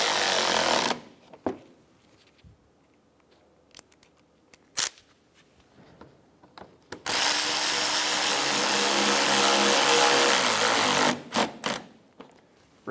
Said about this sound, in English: Install the bottom 2 screws for the front fender liner.